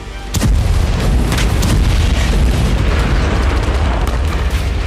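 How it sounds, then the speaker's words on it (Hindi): Powerful thermobaric bomb blast, a sudden heavy boom that swells into a sustained, loud low-frequency roar and rumble, with no voices present. "बम 44 टन TNT की ताकत वाला धमाका करता है"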